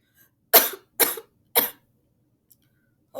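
Three harsh coughs in quick succession, close and fairly loud, each followed by silence, with a faint tiny click afterward.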